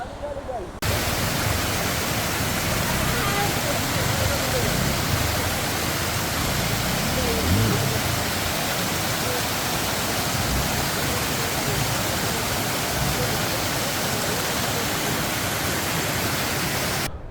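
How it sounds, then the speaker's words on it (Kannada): Rushing water of Surlabbi waterfall near Madikeri roars as a dense, constant broadband wash, loud and close, continuing unbroken throughout. "ನೋಡಿ ಇದೆ ಸುರ್ಲಬಿ ಫಾಲ್ಸ್ ಅಂತೆ. ಸುರ್ಲಬಿ ಫಾಲ್ಸ್ ಇದು ನೋಡಿ ಹೆಂಗಿದೆ, ಸೂಪರ್."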